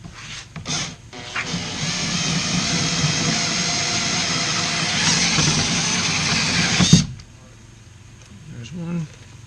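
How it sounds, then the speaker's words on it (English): A power drill whines steadily for several seconds as it bores out aluminum rivets, loud and close, with a speaking voice over it. The drill then cuts off, leaving quieter handling noise. "drill these rivets out real quick"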